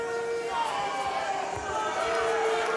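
Lively arena crowd at a BAMMA mixed martial arts event, a steady roar of cheering and chatter sustained throughout with tonal whistles or shouts rising above it.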